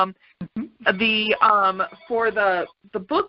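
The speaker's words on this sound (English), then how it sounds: "excuse the phone in the background." A landline telephone rings in the background of a consulting call, its buzzy tone partly buried beneath a person speaking steadily in the foreground.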